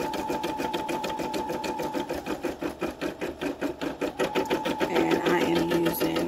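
Embroidery machine stitching black thread into 100% cotton backed with tearaway stabilizer, a loud, close, fast rhythmic whirring with a steady mechanical pulse throughout.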